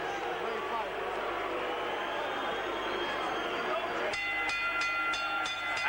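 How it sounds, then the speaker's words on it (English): Welsh fans cheering boxer Colin Jones after his WBC welterweight title fight against Milton McCrory: a sustained broad crowd roar with a voice speaking over it and some sharp tonal accents near the end. "Jones goes to his supporters and gets a tremendous cheer from Welsh"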